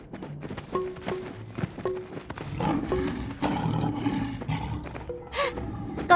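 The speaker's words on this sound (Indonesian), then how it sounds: "Singanya terjebak." A trapped lion lets out repeated deep roars and growls, loud and close, spread across several seconds alongside soft footsteps, with no talking over it.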